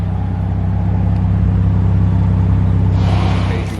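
A BMW M340 fitted with VRSF 4.5 inch catless downpipes idles close by with a deep, steady exhaust drone, rising slightly in pitch near the end.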